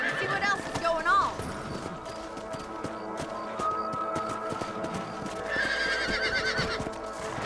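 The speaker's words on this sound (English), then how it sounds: "Let's get back on the horses and see what else is going on." Horses in Red Dead Redemption gallop with rhythmic clip-clop hooves, a loud whinny at the start and another near the end, under a low game soundscape.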